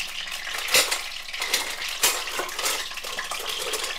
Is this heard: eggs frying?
yes